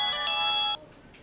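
A phone ringtone trills in a loud electronic melody for about three quarters of a second, then cuts off, leaving a quiet room.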